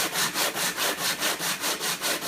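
An 80 grit flap disc sands a rough surface in a steady run of about ten even, rhythmic abrasive passes, loud and close with a constant gritty hiss and no talking.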